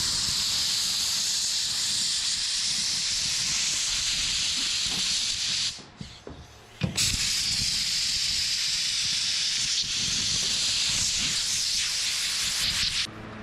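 Compressed air hisses steadily as it blows debris and crud out from under the vinyl top area of a Plymouth Fury, a loud continuous rush with a brief drop near the middle before it resumes.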